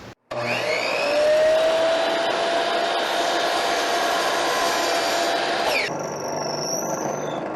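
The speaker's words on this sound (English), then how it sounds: "So we'll cut that off at 5 inches." A power tool whines loudly and steadily for about five seconds as it cuts a piece off to five inches while building a blade alignment gauge, then stops and leaves a fading ring.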